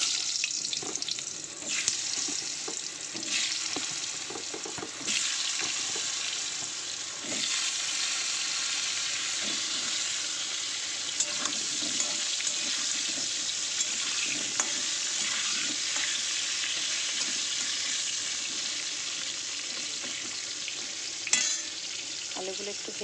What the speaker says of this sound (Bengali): আমি এখানে আলুটা একটু ভেজে নেব, কড়াইতে দিয়ে দেবো, তেল দিয়ে দিয়েছি, একটু হলুদ দিয়ে দেবো, দিয়ে আলুগুলো ভেজে নেব